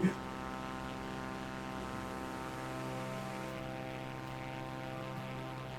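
Steady propeller aircraft drone from a video game plane in flight, a dense harmonic engine tone holding constant and loud throughout with no talk over it.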